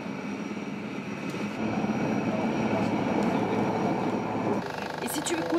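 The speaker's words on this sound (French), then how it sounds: "Toute la nuit, les hélicoptères de groupement aéromobile transportent les blessés." Military helicopters of an air-mobile group fly at night carrying wounded, a steady loud droning rotor and engine roar that fills the clip, with voices talking beneath it.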